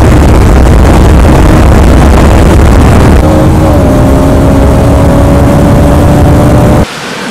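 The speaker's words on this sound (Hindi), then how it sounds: "फर्स्ट टाइम मैं 390 चला रहा हूँ।" A KTM Duke 390 motorcycle ridden at speed gives a loud, steady engine roar with wind rush; the pitch settles into a sustained drone midway and then drops off abruptly near the end.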